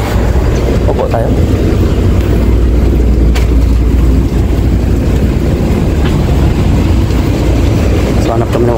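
A steady, loud rumble of a Taipei airport MRT train rolling along rails fills the clip, with faint voices and clatter inside the carriage.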